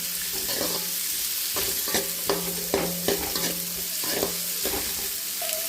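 Beans, cabbage and onion sauté in hot oil for egg fried rice, with a steady sizzle and repeated stirring scrapes and clinks at an irregular rhythm, close and alone.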